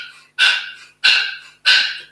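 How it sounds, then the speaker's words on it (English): Three sharp, forceful nasal breath pulses of Bhastrika pumping breath, mouth closed, evenly spaced and close, with no talk. "making a little pumping breath that sounds something like this."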